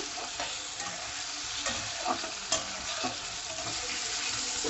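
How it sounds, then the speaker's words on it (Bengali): Tomatoes fry with a little salt in a pan for dhaba-style dal tadka, stirred continuously: an even, close sizzle with repeated scraping strokes and a few sharper clatters, no talking. "টমেটোটা নরম হওয়া পর্যন্ত আমি অনবরত নাড়াচাড়া করব"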